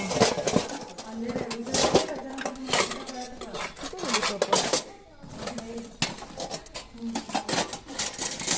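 Pots, pans and utensils clatter and clink as they are gathered at an outdoor picnic near a temple, with scattered metallic knocks under people talking throughout.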